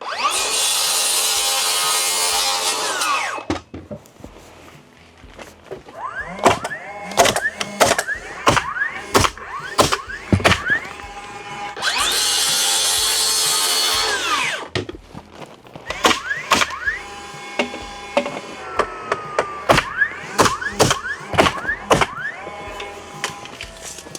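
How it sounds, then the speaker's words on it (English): A power saw cuts square across wooden studs for a backyard home office build, two long loud cuts separated by clattering and knocking as boards are handled. "So I'm just gonna cut the same exact stud, 98 3/8 square, 4 more of them."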